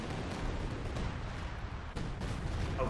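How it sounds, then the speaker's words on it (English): Airstrike explosions in the World War II strategy game Company of Heroes 2, heard as a dense, continuous roar of rumbling blasts and battle noise, loud and unbroken, with one sharper crack partway through. "There's definitely close airstrike coming in this area."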